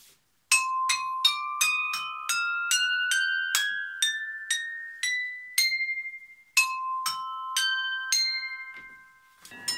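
Piattuino, an instrument of tuned metal plates, struck in a ringing run of bright bell-like notes that step upward, pause, then continue in a second phrase, each tone decaying cleanly with no talking.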